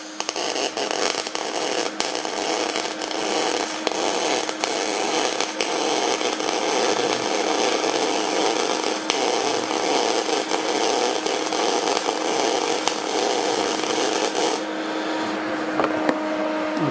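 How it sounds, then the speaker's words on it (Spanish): Steady, loud crackling buzz of MIG welding with flux-core microwire while laying a weaving bead, continuous and close, stopping abruptly near the end. "ahora vamos a hacer un cordón pero haciendo una oscilación con medias"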